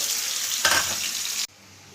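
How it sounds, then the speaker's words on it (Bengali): Onion dropped into hot oil with a spoonful of sugar, a close, bright sizzle that swells briefly, then cuts off abruptly near the end. "তেল গরম হয়ে গেছে, এখানে 1 চামচ চিনি দিয়ে দিলাম, দিয়ে এই পেঁয়াজটাকে দিয়ে দিলাম। পেঁয়াজটাকে একটু লাল করি।"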